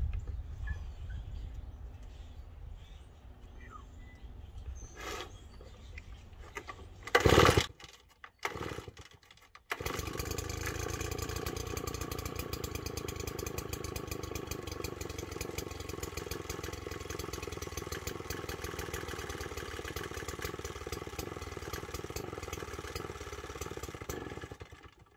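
A vehicle engine cold starts on a snowy winter morning with a brief cranking burst and clatter, then settles into a steady, loud, even idle that continues alone.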